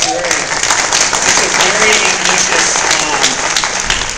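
A convention crowd at a Star Wars Celebration Hasbro panel bursts into loud, sustained applause and cheering, close and dense throughout.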